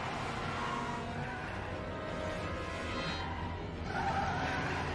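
A car on a television show passes by, a steady broad engine and road rumble that swells slightly near the end, heard at low volume in a room.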